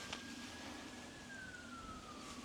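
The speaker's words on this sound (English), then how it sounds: "Police siren in the middle of nowhere." A faint, distant police car siren wails in a slow, falling tone across open, remote quiet, thin and far off over a low background hum.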